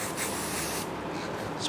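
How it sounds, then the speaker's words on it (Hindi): Hairspray is sprayed onto a freshly styled front-variation hairstyle as a continuous, close, steady hissing burst that fills the whole moment without pause. "बस तुरंत स्प्रे मार देंगे।"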